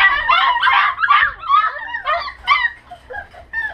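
A litter of young puppies about five weeks old yips, whines and barks in their pen, a close, busy chorus of high overlapping squeals and short yaps.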